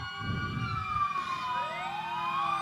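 Siren wailing from a green Bonham Fire Department fire engine, Engine 4, rolling past in a Christmas parade, its rising and falling tones sweeping loud and close over low rumble and crowd noise.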